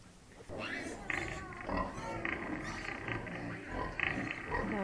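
Day-old piglets and their sow on a farm grunt and squeal in short, close bursts, several overlapping oinks and squeaks of fairly steady loudness.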